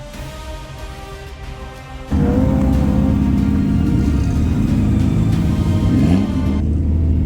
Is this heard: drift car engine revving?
yes